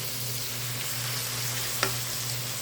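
Tomatoes sautéing with onion and fermented mustard greens in a pan give a steady, close sizzle throughout, with one brief utensil scrape partway through.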